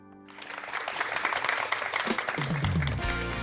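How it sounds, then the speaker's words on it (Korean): A church congregation at a special broadcast service applauds in a thick, continuous wash of clapping that swells and then holds. A low musical tone comes in near the end. "우리 인도하실 주님께 영광의 박수를 드리겠습니다"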